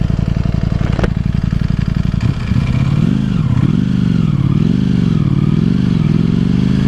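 2018 Ducati Panigale V4S sportbike ridden in traffic, its engine loud and close with a steady idle-like pulse that rises into rolling, wavering revs as the bike pulls away and accelerates, with wind rumble throughout.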